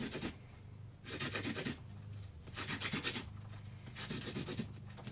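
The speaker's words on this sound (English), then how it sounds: "Take my sandpaper and I sand it, all the edges." Sandpaper rasps over the edges of a handmade coin ring in rhythmic bursts, four distinct scrubbing strokes separated by brief pauses, close and moderately loud with no voices.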